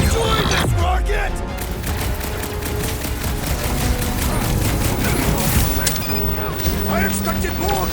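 A dense gunfight against Nova Corps troops in the Guardians of the Galaxy video game, with rapid continuous blaster fire, crashes and impacts, and characters shouting over the shooting throughout.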